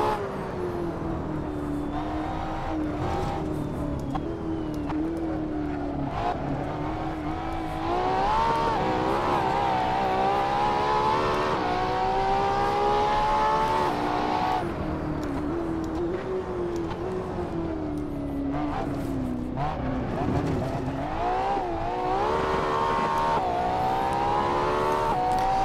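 A Ferrari LaFerrari driven hard on a race track, its engine loud and continuous, climbing and falling in pitch through acceleration and gear changes with no speech over it.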